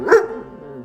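A single short dog bark with a brief yip-like onset rings out close and clear, then trails into quiet room tone with no other activity.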